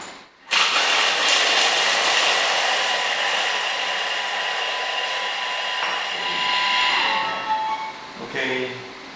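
A Thermomix mixer whirs steadily at speed 5 for about eight seconds while blending a mini cheesecake mixture, then winds down near the end; loud and close, with no talk over it.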